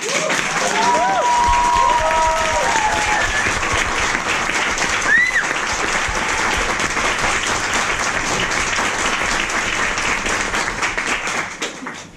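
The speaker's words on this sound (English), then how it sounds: "the applause right now should be to the organizers" Sustained applause fills a conference awards ceremony, a dense steady clatter of many hands lasting the whole stretch, with faint voices and a stray whistle or cheer mixed in before it tapers at the very end.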